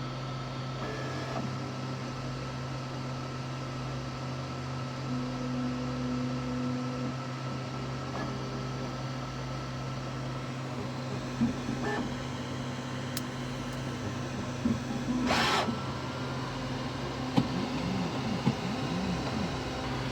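A Qidi Max 4 3D printer running its calibration routine gives a steady, low mechanical hum with a faint tonal whine and occasional small clicks and ticks, with no talking.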